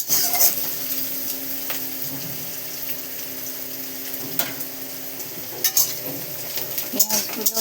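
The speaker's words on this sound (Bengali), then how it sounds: "পেঁয়াজগুলো ভালো করে ভেজে নিচ্ছি।" Onions fry in oil in a home kitchen pan with a steady close sizzle, while a utensil stirs and scrapes against the pan in repeated clicks and clatters, more of them near the end.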